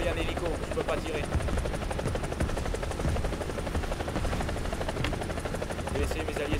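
Helicopter rotor chopping steadily throughout in the combat game War Thunder, a dense continuous rumble with some gunfire-like noise mixed in and voices faintly underneath.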